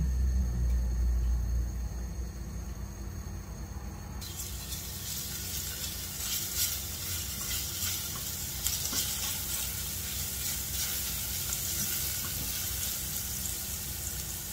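Garlic sautéing in about two tablespoons of extra virgin oil in a pan, a steady sizzle that swells after a few seconds and keeps going evenly, with faint stirring scrapes and no talk.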